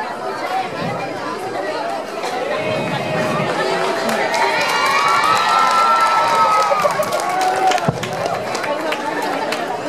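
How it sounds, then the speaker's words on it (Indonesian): Audience at an evening arts night for Indonesian Independence Day, applauding and cheering after a school poetry performance, with dense crowd chatter and shouts filling the whole stretch, fairly loud and steady. "kita beri aplaus kembali untuk MTS Sanawiyah Harapan"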